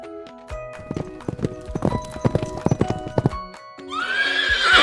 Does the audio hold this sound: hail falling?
no